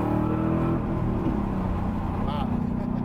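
Revology Shelby GT350 V8 with a Borla exhaust, a steady deep engine rumble and burble heard close up throughout, with faint bits of cabin noise.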